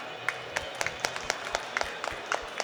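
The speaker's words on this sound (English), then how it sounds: "please give him a big round of applause." Sparse applause from a conference audience greeting a healthcare executive panelist at a nephrology and AI event, a thin scattering of separate claps over a low room hum.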